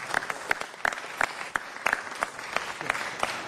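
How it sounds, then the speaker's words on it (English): Brief, steady applause from a studio audience, with sharp individual claps standing out above a dense wash of clapping and little else. "Give them a round of applause for filming in L.A."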